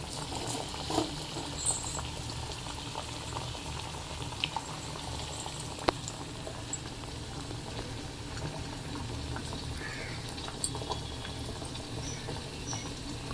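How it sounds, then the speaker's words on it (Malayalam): Jackfruit vada deep-frying in coconut oil, a steady soft bubbling and crackling that runs evenly throughout with a few brief sharper pops, moderately close and without talk. "വെളിച്ചെണ്ണയിലാണ് നമ്മളിത് പൊരിച്ചെടുക്കുന്നത്."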